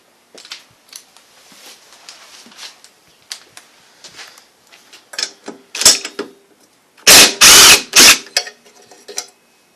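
A 15/16 wrench works loose the muffler bolts on a Briggs motor, giving ragged metallic clicks and scraping that build to a few loud clanks near the end, close up.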